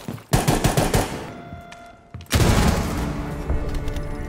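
Gunfire and a frag grenade in the Rainbow Six Siege video game: a loud, rapid volley of shots, a brief lull, then a heavy burst that settles into sustained rumbling fire.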